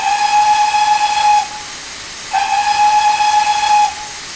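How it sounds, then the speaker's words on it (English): A steam locomotive whistle from the Train Simulator 2015 game sounds twice, each a loud, steady, high tone lasting over a second with a short gap between, carried over a constant background hiss. "We also, of course, have a whistle."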